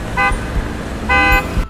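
Two short car horn honks in traffic, the first brief and the second longer, sounding over a low rumbling road and engine background.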